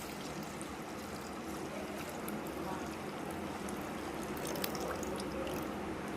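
Liquid for homemade yogurt pours steadily into a steel pot, a continuous soft splashing trickle heard close up for several seconds.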